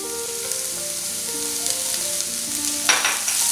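Finely chopped cabbage stir-fries in a pan for mixed vegetable mushroom soup, a loud steady sizzle under soft background music, swelling with a burst of stirring near the end.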